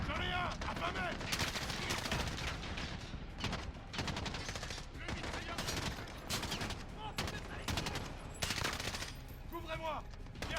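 Bursts of machine gun fire and other gunshots in the Call of Duty Modern Warfare video game, rapid dense volleys repeating throughout with crackling impacts, mixed over game audio.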